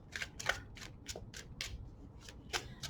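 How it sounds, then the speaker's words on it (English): Cards are riffled and shuffled in a series of quick, crisp bursts, about ten short papery flicks in an uneven rhythm, close and fairly quiet. "so let me get back to shuffling."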